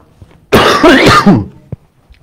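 A single harsh, close cough with a throaty rasp, followed by a brief small click and quiet.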